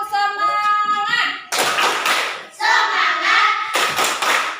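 A group of children in a classroom chant a rhythmic 'spirit clap' routine, their sung voices broken by loud bursts of clapping in a repeating pattern, close and lively.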